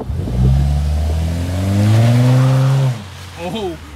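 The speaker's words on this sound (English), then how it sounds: "Oh, we got a little tire spin." A car accelerates hard with its tires briefly spinning, the engine revving up loud and close in a rising sweep before easing off, with people talking in the background.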